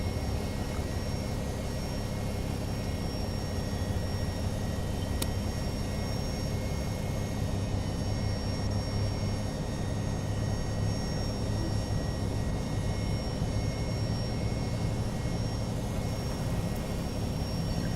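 Boeing 757-200 engines powering up in X-Plane 11, a steady loud drone with a low rumble and a thin constant whine that holds at a fairly even level throughout.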